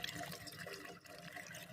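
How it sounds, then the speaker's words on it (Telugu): Water pours steadily out of a well motor pipe in a continuous, fairly close gushing and splashing stream with no breaks. "మోటార్ల నుంచి నీళ్ళు వస్తున్నాయి కిందికి."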